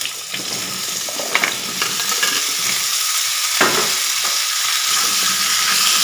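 Diced pumpkin, 750 grams, tipped into a hot pan with green chilli, then a loud continuous sizzle and frying hiss with a few stirring clatters, close up, no talking.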